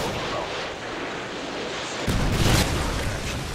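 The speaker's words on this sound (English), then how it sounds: "Predator missile ready for launch." Predator missile launch and blast in Call of Duty multiplayer Search and Destroy on the Highrise map: a steady rumbling roar that swells into a louder, deeper boom about halfway through, then a sustained loud rumble.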